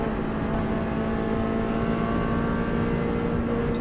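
A Subaru WRX STI runs at full power in fifth gear on the Isle of Man TT course, a loud, continuous engine drone with a steady pitch and no voices.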